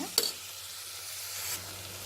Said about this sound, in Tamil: இப்போது தக்காளி சேர்த்துக்கலாம் தக்காளி நல்லா மசியாக வேகட்டும்